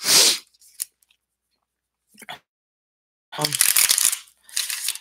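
A deck of tarot cards is shuffled by hand close up: short, crisp riffling bursts come one after another, broken up by quiet pauses and a few small flicks between them.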